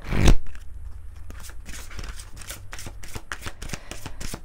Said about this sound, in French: On va prendre, j'ai oublié, une carte de la libération énergétique.